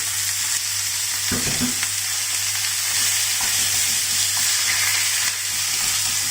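Pork sizzles and fries steadily in a hot pan with garlic and chili for Thai pad kra pow, a continuous loud frying hiss with a few clinks of stirring, no talking.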